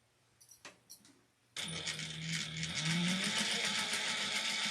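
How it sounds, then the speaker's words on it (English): A sewing machine stitching over the seam of a fabric snack bag starts after a few light clicks and then runs as a steady, close mechanical whir with a rising motor hum. "And I'm going to just sew over that area real quick."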